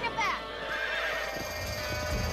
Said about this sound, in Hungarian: Hát ezt a lovat nem sikerül betörni.